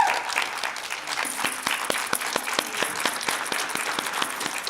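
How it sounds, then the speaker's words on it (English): A standing audience at a 2017 vendor appreciation awards ceremony applauds warmly, the crowd's clapping steady and fairly close, with a few distinct sharp claps landing in rhythm above the wash. "I'm asking you to stand up and give them a round of applause."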